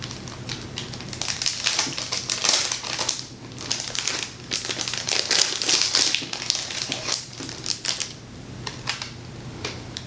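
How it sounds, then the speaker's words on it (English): Plastic wrap is peeled off a flamingo charm pen: close crinkling and crackling rustles come in uneven bursts, louder at times, then easing off. "let me get the plastic wrap off so I can show you better"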